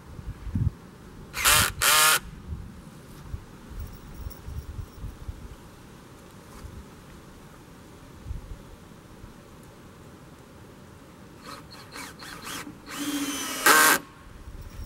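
A screw gun drives screws into a joist bracket on a yurt platform in short, sharp high-pitched whirring bursts: two quick ones early, then a cluster of several near the end over quiet outdoor background with insect-like buzzing.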